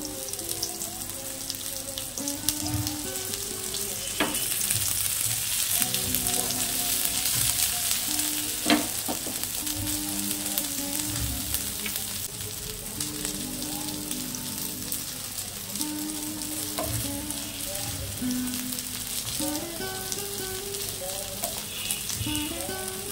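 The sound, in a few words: sweet corn tikka frying in a pan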